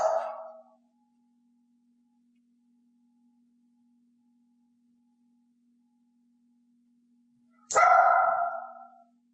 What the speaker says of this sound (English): I want a loud bark, so I simply stopped reinforcing low growls or quiet barks